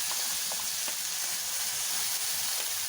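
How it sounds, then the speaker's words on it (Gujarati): Ginger-chili paste hits hot oil with mustard seeds, giving a dense continuous sizzle with small pops and crackles throughout, close and steady, no talking. "હવે આપણે આદુ મરચાંની પેસ્ટ એડ કરીશું।"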